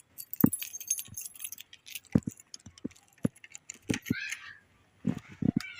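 Keys for a Hero Power CG 100H motorbike jangle in several short, quiet bursts of metallic clinks and rattles as they are handed over, with brief pauses between the bursts.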